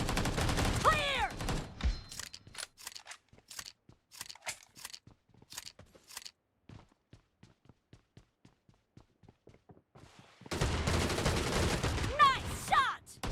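Gunfire in the mobile shooter BGMI during a team deathmatch shotgun challenge: rapid bursts of sharp shots, denser at the start and end with a sparser run of single cracks between, and brief voice callouts mixed in.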